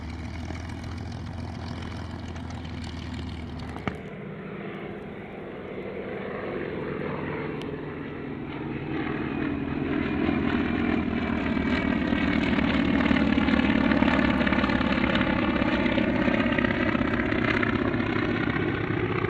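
A warbird with a 1,900 hp Shvetsov Ash-82T radial engine drones steadily at an airshow, its propeller roar building and thickening as the aircraft draws nearer, loud and continuous throughout.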